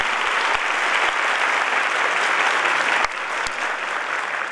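Sustained applause from a concert audience in a theatre, steady dense clapping filling the room with a few sharper claps standing out, easing slightly toward the end.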